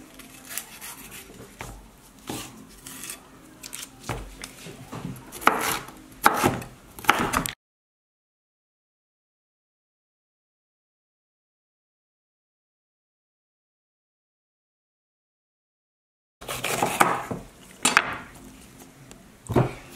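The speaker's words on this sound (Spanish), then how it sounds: "Ya teniendo los vegetales bien lavaditos, ahora los voy a partir." Knife slicing washed vegetables, green and orange bell peppers, into julienne strips on a wooden board, with repeated soft cuts and scraping, a long stretch of silence in the middle, then more cutting.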